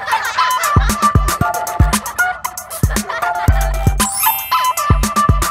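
A hen clucks and squawks in a busy cartoon-style mix of repeated clucks and rhythmic clicking hits, loud and close with a steady bouncy pattern.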